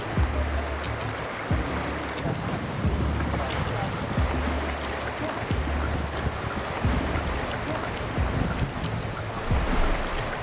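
A small boat pounds across choppy water, rhythmic thumps of the hull under steady wind and engine roar, loud and close.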